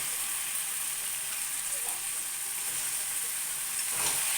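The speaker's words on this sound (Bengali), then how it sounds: "দিয়ে একটু ভালো করে কষিয়ে নেবো এটা মাংসটা" Meat being sautéed with spices and yogurt in an oily pan sizzles steadily and fairly quietly, with a brief scrape of stirring near the end.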